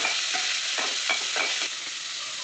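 Onions and mint leaves sautéing in a pan, a bright continuous sizzle with repeated stirring strokes scraping through it at a loose rhythm, close and moderately loud.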